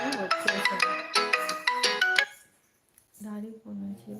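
A phone ringtone plays a bright melodic tune for about two seconds, stops, then starts again after a short pause, loud and close.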